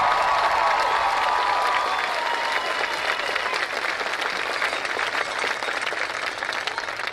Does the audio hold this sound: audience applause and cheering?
yes